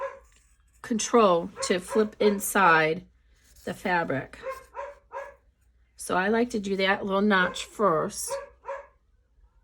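A pet dog named Grayson barks in short bursts in the background of a sewing room while a woman explains a crossbody bag lining step.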